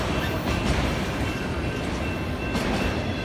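A mixed freight train rumbles steadily past a road railroad crossing, a loud continuous roll of wheels and cars close by with no pauses.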